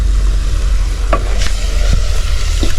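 Cooked meat being stirred into pilao rice in a pot over a village cooking fire, with loud scraping and stirring sounds and a steady sizzle underneath, a few sharp clinks of the spoon standing out.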